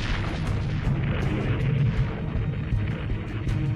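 Heavy German World War II artillery of the V-3 England cannon type firing, a dense, continuous rumbling barrage of booms with sharp cracks layered over a constant low roar, loud throughout with no talking.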